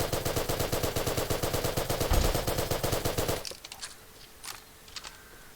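Rapid automatic gunfire sprays loudly in the video game Island Royale for about three and a half seconds, a dense rattling burst, then breaks off into scattered sharper cracks and shots.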